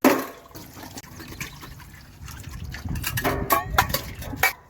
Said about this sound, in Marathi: चहा कप धुवून घेऊया